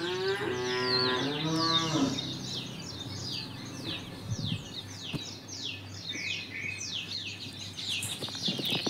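Cows and a calf moo on a farm at the start of a morning, a long harmonic call or two in the opening seconds, with birds chirping steadily in the background for the remainder.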